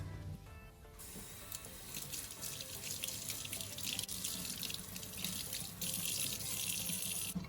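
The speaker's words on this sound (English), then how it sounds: "Let's just wash it off and see what happens here." Water runs steadily from a sink tap, rinsing resin off an object held beneath it. A bright, continuous splashing stream sounds close by, with a brief quieter start before the flow comes in fully.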